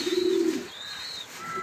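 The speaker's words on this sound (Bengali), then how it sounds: "এইখানে দেখতে পাচ্ছেন একদম টপ কোয়ালিটির লাইট কালারের মিলি রেসার হুমা কবুতর" A light-coloured racing pigeon of top show quality gives a soft, low cooing call at the start, followed by faint higher chirps from other birds nearby.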